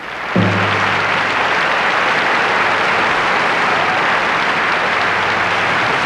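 Loud, dense audience applause in a 1978 Liberace stage show, starting suddenly and holding steady without letup, a low tone briefly beneath the clapping at the start.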